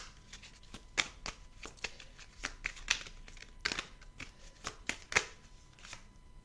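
Tarot cards are shuffled by hand in a close, quiet run of crisp riffles and soft slaps, coming in irregular bursts.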